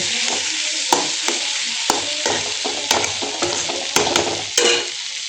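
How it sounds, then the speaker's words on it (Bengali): A spatula stirs coriander-topped food in a hot frying pan, giving steady broadband sizzle with repeated sharp scrapes and clacks against the pan at irregular intervals, close and fairly loud. "একটু সময়ের জন্য ভালো করে নাড়া দিয়ে তারপরে হচ্ছে নামাই নেব"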